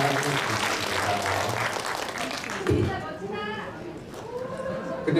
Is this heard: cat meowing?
no